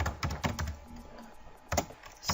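Computer keyboard keys are tapped in quick bursts to type a web search, with clusters of crisp clicks separated by short pauses, close and fairly loud.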